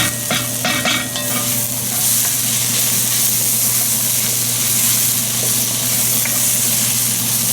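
Tomato paste sizzles loudly and steadily in a hot pot of keto goat stew, a continuous close frying hiss with a few scraping stirs near the start and no talking.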